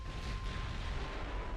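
Naval guns firing HE shells in the naval battle game Ultimate Admiral: Dreadnoughts, a dense low rumbling roar of distant artillery blending into a continuous boom throughout.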